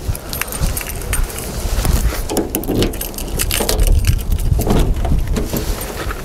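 Car keys jangle and clink continuously at close range as a used car is unlocked at an outdoor car market, with scraping handling noises and faint background activity.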